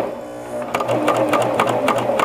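After a brief quiet moment, a sewing machine starts overstitching a T-shirt seam, its needle chattering in quick, close, rhythmic bursts that carry on to the end.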